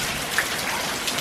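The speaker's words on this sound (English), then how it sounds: "It's raining so much. This is crazy." Heavy rain pours steadily in Charleston, a dense, continuous hiss of drops at close range with no voices.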